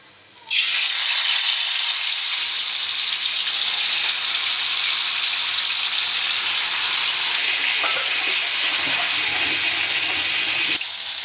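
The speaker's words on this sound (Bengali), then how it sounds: "তাই আমি কই মাছ আগে মশলা দিয়ে মেখে রেখেছি, এখন তেল গরম হয়ে গেছে, ছেড়ে দেবো" Spice-marinated koi fish drop into hot oil, bursting into a loud, sustained hiss of frying that holds steady and close for about ten seconds, then cuts off abruptly, with no talking.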